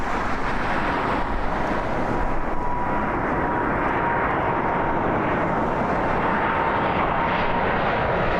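Steady, loud broadband roar of a jet airliner at Toronto Pearson Airport, continuous for the whole stretch with a faint steady whine riding on top and some wind buffeting on the microphone, no voices.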